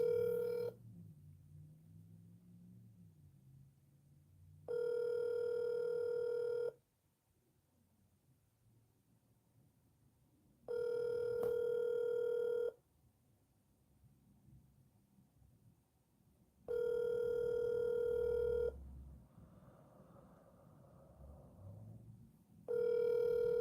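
An outgoing phone call ringing back, repeated steady electronic ring tones about two seconds long separated by pauses, at close range, with faint background noise between rings.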